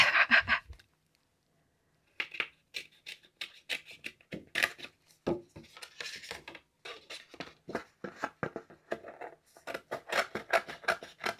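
Scissors snip through card stock while a layered card is being trimmed from its old base, a quick run of close, crisp cuts after a short pause, steady and sharp throughout.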